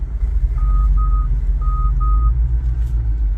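A vehicle backing up in a Jeep-filled lot sounds four evenly spaced electronic reversing beeps in two pairs over a heavy low engine rumble, fairly close and loud.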